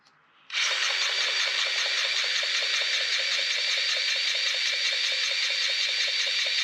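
A grease gun pumps grease into the fittings of a Schulte FX-530 tractor mower. After a brief quiet start, a loud, close mechanical whir with fast rhythmic pulsing runs on steadily to the end, with no one talking.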